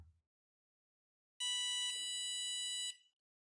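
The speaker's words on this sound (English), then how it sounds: "let's run this code and see how does the buzzer beep" A single electronic buzzer tone from a MakerPi Pico RP2040 microcontroller board sounds steadily for about a second and a half, loud and close, then cuts off, leaving silence.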